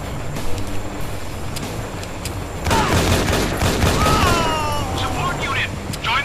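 Dense, continuous video game gunfire and battle noise, loud and close, swelling midway with a roar and whistling effects; a voice talks over it.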